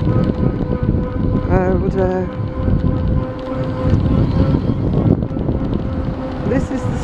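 A scooter motor drones steadily while riding downhill on a residential street, held below full throttle, with wind rumble over the microphone and a person talking throughout.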